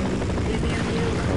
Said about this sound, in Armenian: ուղղաթիռով հակառակորդ է, այլ շարունակելու է մեզի կրակել